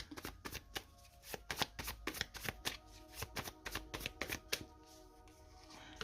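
Tarot cards are shuffled close up in a quick, crisp run of riffling flicks and taps, with steady snapping pulses and no voices.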